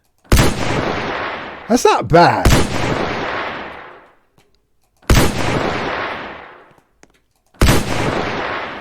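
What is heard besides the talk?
arm cannon firing in video game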